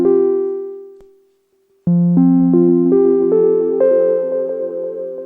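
A filtered triangle-wave synth note rings out, fades to near silence, then a second note blooms into cascading stereo repeats from a Walrus Audio Meraki analog delay, echoes stepping upward and stacking densely, close and sustained with no talk.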